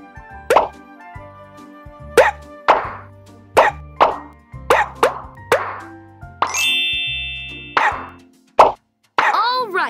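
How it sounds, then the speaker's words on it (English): A string of bright, bubbly pops and plinks of bubbles in a PAW Patrol video game, about a dozen, spaced irregularly with short musical chimes between some of them, clear and close. "Now tap all the bubbles to pop them."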